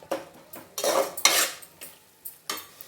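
Spice masala frying in a pan for pulao is stirred with a metal spoon: several sharp scraping strokes against the pan, close and distinct, with a light sizzle beneath and no voices.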